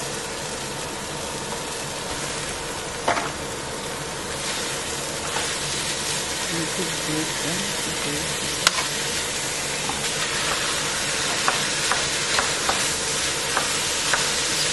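Garlic and onion fry steadily in an already hot pan, giving a continuous close sizzle with occasional light clicks and stirring scrapes throughout, with no talking.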